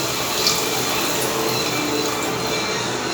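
A little water poured into a beef kebab mixture of minced beef, vinegar and other ingredients, a steady splashing trickle running for about three seconds at close range, with no talk.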